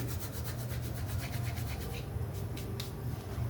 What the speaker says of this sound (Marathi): इथे आपण आता अर्धा चमचा ओवा घालणार आहोत, हाताने असं चुरून